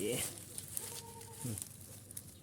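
A chicken gives a brief cluck-like call amid a guava orchard, a short tonal sound in the middle of the moment, with someone speaking faintly around it.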